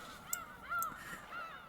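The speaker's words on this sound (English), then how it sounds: "It sounds almost like monkeys, but they're seagulls." Seagulls give a few faint, distant cries with a wavering, wailing pitch that almost resembles monkeys, the calls spaced out over a quiet background.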